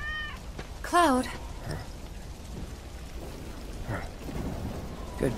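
In the video game Final Fantasy 7 Remake, a cat gives one clear, close meow over a steady patter of rain, with low rumbles and voices speaking faintly around it.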